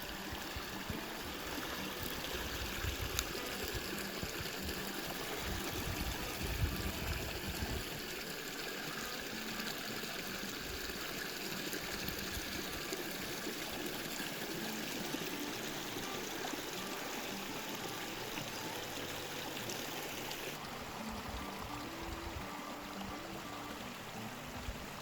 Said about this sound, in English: This little waterfall. There's a creek that runs into Dorothy.